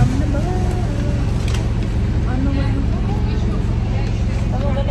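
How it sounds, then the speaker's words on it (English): A steady low bus engine rumble fills the cabin, with several people chatting over it throughout. "I don't know how loud this bus is right next to us"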